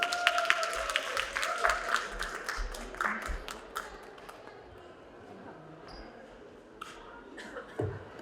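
An audience claps loudly together at a Jeongseon urban regeneration forum after a presentation. The dense applause fades out after a few seconds, and a few scattered claps and light noises remain.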